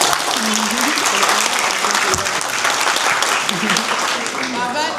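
Loud, dense audience applause fills the room at a student meetup in Turkey, steady clapping from many hands with voices talking over it throughout.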